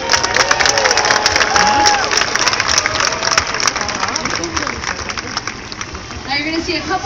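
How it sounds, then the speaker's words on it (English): A SeaWorld San Diego stadium crowd claps and cheers loudly during a killer whale show, with a dense wash of applause and shouts and some voices within the noise. "You guys can clap and cheer him on because he can hear you."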